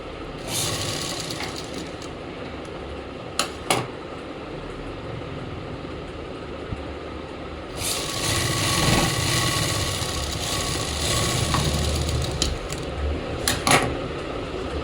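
A domestic sewing machine stitches up along a palazzo pocket in a home setting, running in steady mechanical bursts with a brief pause between runs and a longer continuous stretch near the end.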